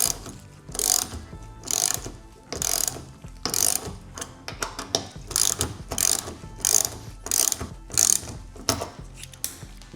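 A 13 mm ratchet wrench tightens break-off lock bolts on a Legend SecuriLock cargo van lock fitted to a Ford Transit, producing loud, close bursts of rapid ratchet clicking in repeated short strokes with brief pauses between them.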